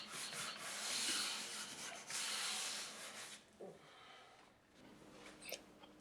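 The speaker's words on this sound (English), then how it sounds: "When the mud is dry, take a block sander and clean the area." A block sander rubbing over dried drywall mud around a bifold closet door opening, several rough back-and-forth scraping strokes up close, then quieter brief scuffs.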